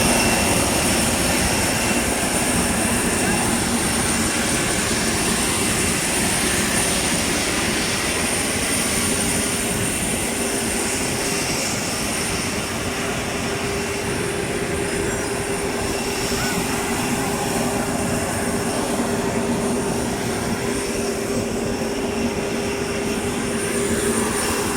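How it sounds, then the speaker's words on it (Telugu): Steady jet engine roar fills an airport apron as passengers board a flight, a continuous broadband rumble with a high whine, loud and unbroken throughout. "ఇదే మా ఫ్లైట్."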